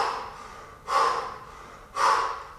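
Heavy exhaled breaths after exercise between short interval sets, two strong close puffs about a second apart over quieter breathing.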